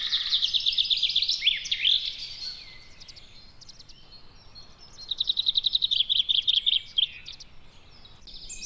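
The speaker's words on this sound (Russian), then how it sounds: "А так поет зяблик." A chaffinch sings in a forest of the Prioksko-Terrasny nature reserve, delivering two clear, rapid trilling phrases that end in a flourish, close and bright over quiet woodland background.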